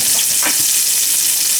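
Speck, shallots and garlic sizzle in a hot sauté pan, giving a steady, close frying hiss with faint stirring clinks and no voices.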